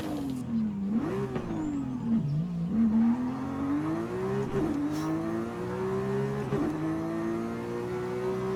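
A high-revving naturally aspirated Porsche 911 GT3 RS engine in Forza Horizon 5 whines steadily, climbing and dropping in pitch through gear changes, with a synthetic, game-like tone and light whooshing over a low rumble.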